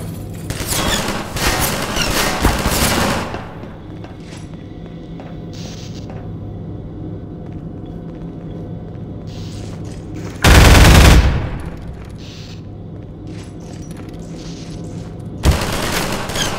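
Heavy automatic gunfire in Half-Life 2: a loud sustained burst up front, then a quieter stretch with scattered distant shots, a deep blast around the middle and another sharp shot near the end, with no talk.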